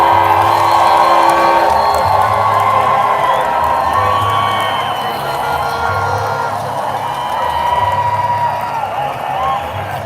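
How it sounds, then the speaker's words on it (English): A large protest crowd at a No Kings day rally in Chicago cheers and whoops continuously, a loud dense roar of many voices with scattered shouts and some applause across the whole stretch. "You hear the crowd?"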